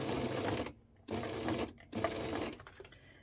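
A sewing machine stitches a water bottle holder for a Yeti bottle in three steady runs, near and loud, with short pauses between bursts and a click as the presser foot is handled at the end.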